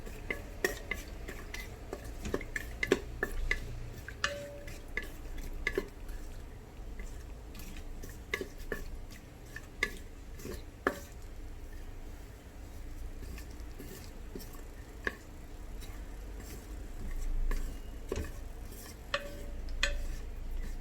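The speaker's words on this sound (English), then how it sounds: "Okay, I'm going to give it a stir." Spoon stirring whole spices (cloves, cardamom, star anise, bay leaf) in oil inside a rice cooker pot for a vegetable biryani, with repeated close scraping clinks and a soft frying sizzle throughout.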